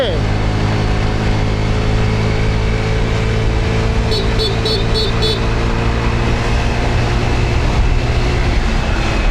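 A Honda Click 160 ABS scooter fitted with a Flex air filter revs hard in a loud, steady, continuous engine drone with strong low harmonics. A short run of quick high ticks cuts through partway.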